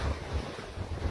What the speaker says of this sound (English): You can hear the waves right now.